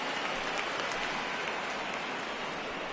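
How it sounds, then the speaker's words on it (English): Rain pours steadily during a World Series baseball game, a dense, even hiss of drops hitting the surface, loud and constant with no pauses and no voices. "we've mentioned the conditions aren't ideal with the rain coming down"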